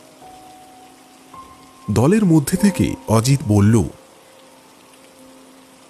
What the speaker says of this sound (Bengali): সকাল থেকে টিপটিপ বৃষ্টি পড়েই চলেছে।